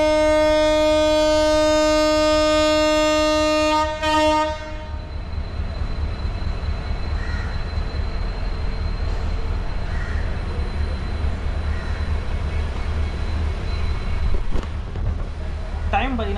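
A loud, sustained train horn blares for a few seconds, then cuts off, leaving the steady rumble and clatter of the Rameswaram–Trichy Express starting to move.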